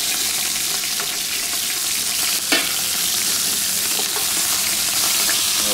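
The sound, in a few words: beef short rib and chuck searing in a pot for pot-au-feu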